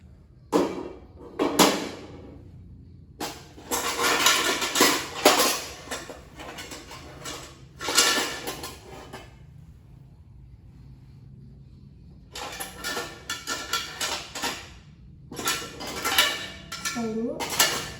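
Sterilized metal medical instruments and items lifted out and set down, clinking and clattering in bursts with quiet gaps between, close and moderately loud.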